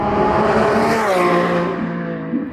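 A Lamborghini Revuelto's 1000 hp V12 engine roars loudly and steadily as it accelerates hard, with rising harmonic tones and a faint tire chirp near the end.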